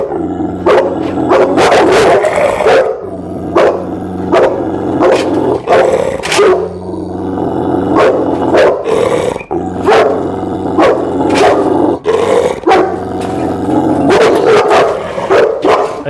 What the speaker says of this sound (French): Il va aboyer sur moi